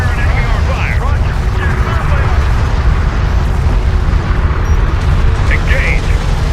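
Railgun fire and explosions from the real-time strategy game Homeworld: Deserts of Kharak blend into a loud, continuous battle rumble, with radio voices over it.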